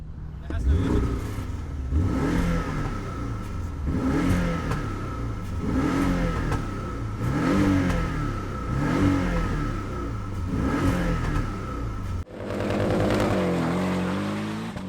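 A Porsche 718 Cayman GTS with a 2.5-litre turbocharged boxer engine revs repeatedly, its loud rising and falling engine notes coming in rhythmic surges before a brief cut and a renewed revving burst.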